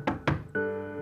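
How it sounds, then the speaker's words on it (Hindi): Two firm knocks on a wooden door at close range, sharp and distinct, followed by a sustained tonal background hum, as in a home where a visitor has arrived. "दरवाजा खटक, देख क्या आते,"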